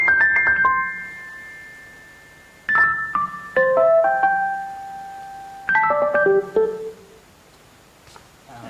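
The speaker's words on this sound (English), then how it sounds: "I've just changed the sound of the things that SIM is playing to an electric piano sound" Electric piano sound, with acoustic piano, playing short clusters of bright bell-like notes in three separated bursts, each ringing and decaying into quiet, moderately loud and close.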